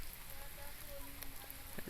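Steady rain patters across the whole stretch, a dense hiss of drops on a surface with a few faint tonal sounds drifting through.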